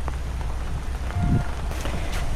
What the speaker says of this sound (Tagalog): Mukhang babagsak ang ulan ah